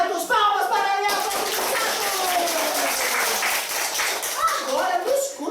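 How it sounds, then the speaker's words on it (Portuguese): Audience applause at a storytelling session, a burst of many hands clapping that swells and holds steadily for several seconds before tapering, with voices heard at the start and end. "Palmas para Ariel."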